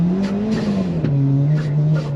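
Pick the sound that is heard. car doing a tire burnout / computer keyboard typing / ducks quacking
car doing a tire burnout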